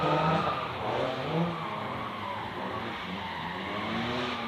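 A drift car spins out during a drifting competition on the plains, with loud, sustained engine roar and tire squeal up close, the pitch wavering as the car slides.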